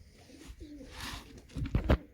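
Pigeons kept on a rooftop loft give a few low coos, with a louder burst of bird sound near the end, close by and otherwise fairly quiet.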